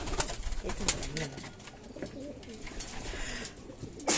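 Pigeons coo softly nearby in low, rolling calls, repeated several times against faint background noise.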